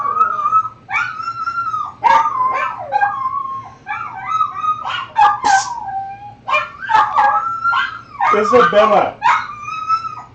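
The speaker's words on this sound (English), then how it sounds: "My puppies are getting upset." Pet dogs, puppies in a home craft workspace, whimper, yip and howl in repeated rising and falling cries close by, with a person briefly speaking amid the canine noise.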